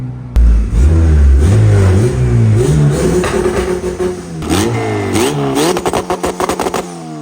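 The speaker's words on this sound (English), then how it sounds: "the car is now hitting VTEC" A turbocharged Honda B20 VTEC engine revs hard and climbs in pitch, then drops and rises again into a sharper, higher-revving wail as VTEC engages, with rapid throttle blips near the end, loud and close.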